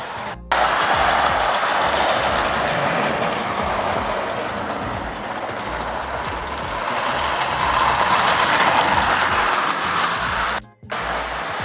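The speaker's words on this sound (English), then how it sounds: "over the sound of such a very loud train" A vintage Lionel toy train runs continuously with a loud, steady mechanical hum and rumble, briefly cutting out near the start and again near the end.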